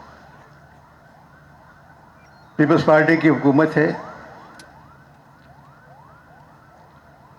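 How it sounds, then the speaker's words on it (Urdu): Emergency sirens wail outside in Karachi, rising and falling steadily through the whole stretch at moderate distance, while someone speaks loudly over them for a couple of seconds. "یہ سائرن کس کے لیے بج رہے ہیں؟"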